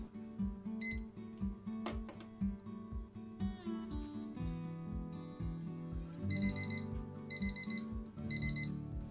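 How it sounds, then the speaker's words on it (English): A kitchen timer alarm rings insistently in a home kitchen during sourdough bread baking, its repeated electronic beeps in rapid pulsing bursts over a steady background, close and clear for several seconds. "reset your timer for 7 minutes"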